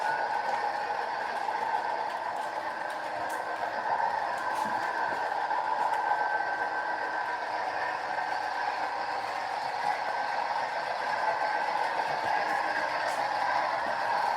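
A model train runs along its track with a steady, continuous whirring hum and faint clicking, holding an even level from start to finish with no talk.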